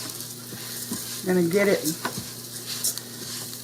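Dry rice being stirred in a pot with a little leftover oil, sizzling and scraping in a short burst mid-clip against a steady background hum, with a brief spoken phrase nearby.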